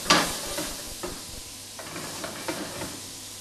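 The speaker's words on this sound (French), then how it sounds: "Je vais déglacer un petit peu avec la crème." A pan sizzles as it is deglazed with cream, a close hiss that opens with a loud burst and then settles into a steady crackle, with soft stirring scrapes recurring every half second or so.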